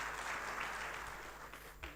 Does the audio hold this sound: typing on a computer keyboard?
no